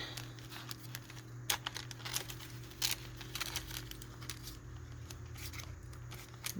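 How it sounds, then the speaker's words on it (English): Scissors snip through paper pages of a Christmas junk journal in quick, irregular cuts, close and fairly quiet over a low steady background hum. "I'm kind of leaning my scissors on the page behind it and using that as a guide."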